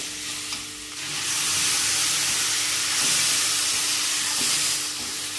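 Potato rassa with green chillies and red chilli powder boils in a pot, giving a loud, steady hiss and bubbling sizzle of steam that swells after the first second.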